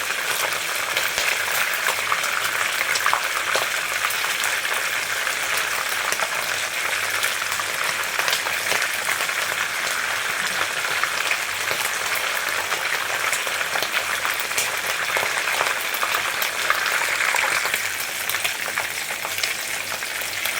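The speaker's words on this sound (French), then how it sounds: "on a fini de faire frire le poisson" Horse mackerel fries in hot oil, giving a steady, dense, close sizzle that holds at an even loudness for the whole stretch, with no voices.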